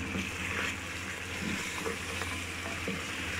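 Goat trotters (paya) fry with fenugreek seeds in a pot, a steady close sizzle with faint stirring scrapes running the whole time and no talk.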